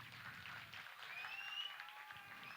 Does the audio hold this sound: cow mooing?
no